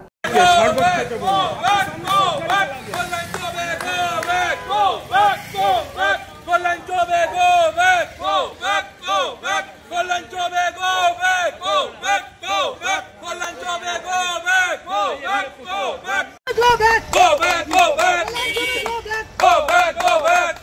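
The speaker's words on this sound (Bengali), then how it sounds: "বিজেপি প্রার্থী কল্যাণ চুবেকে গো ব্যাক স্লোগান" Dense outdoor crowd chanting 'go back' slogans at BJP candidate Kalyan Chaubey during the Maniktala by-election in Kolkata, loud and continuous with rhythmic shouted voices and babble throughout, a brief dip near the end before the chanting surges again.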